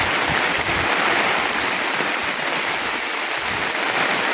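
Heavy rain falls on a farm in the Philippines, a dense, steady, loud hiss of downpour with no breaks and no talk.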